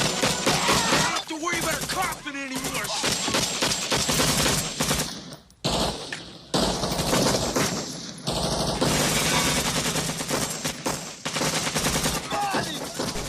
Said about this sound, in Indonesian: Aksi tembak-menembak pun terjadi di sini.